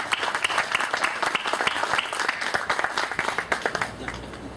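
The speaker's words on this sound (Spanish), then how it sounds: "Recibamos con un fuerte aplauso" Sustained applause from a forum audience welcoming an economist speaker to a talk on mining in Peru, dense clapping that holds steady throughout and tapers slightly near the end.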